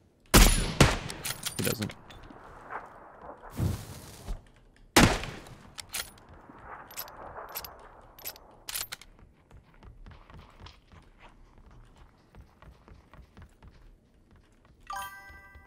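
Gunfire in PUBG, with several loud, sharp shots and short bursts in the first seconds, then scattered quieter reports and metallic pings, fading to softer game ambience while someone speaks briefly.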